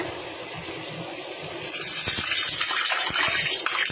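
Half a cup of water poured into a cooking pot with sautéing ingredients, a faint sizzle first and then a sudden, louder gushing splash that keeps on bubbling.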